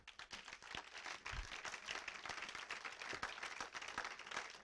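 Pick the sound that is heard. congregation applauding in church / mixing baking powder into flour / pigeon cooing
congregation applauding in church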